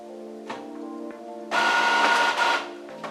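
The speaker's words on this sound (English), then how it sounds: "For this test I only print a Windows test page." An Epson printer runs off a Windows test page: steady mechanical whirring with a click, then a loud burst of feed and print-head rattle for about a second before settling back to a quieter hum.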